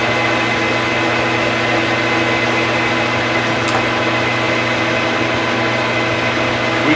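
A drill press spins at 755 RPM, giving a steady, even motor hum with a faint whine, running continuously at moderate loudness without any talk.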